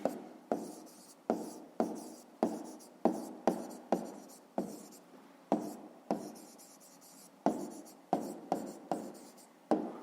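Pen writing out a fifth-grade maths solution on paper, a close, dry scratching in short separate bursts of strokes, each starting with a sharp tap and fading, with brief pauses between words and no voices.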